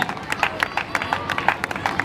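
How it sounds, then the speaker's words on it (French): An audience at an investiture ceremony for a new dean and her committee claps in a dense, crackling burst of applause that rises and falls in loud waves, with voices mixed in. "Quand elle arrive, vous applaudissez pour elle"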